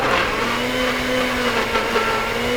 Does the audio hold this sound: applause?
no